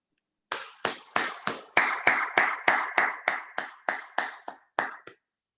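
One pair of hands claps about thirteen times in a steady, even rhythm, close and clear with no voices, welcoming a speaker to an online idea and creativity workshop.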